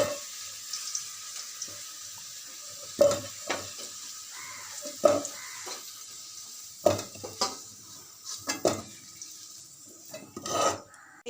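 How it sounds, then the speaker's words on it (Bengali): Potatoes fry in hot oil until browned while being lifted out, giving a soft sizzle punctuated by several sharp clinks and scrapes of a utensil against the pan. "আলুগুলো দেখুন লাল লাল করে ভাজা হয়ে গেছে"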